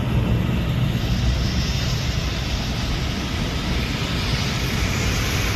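A steady, loud roar of a jet engine from an airplane taking off fills the air continuously, broad and rumbling, with no break.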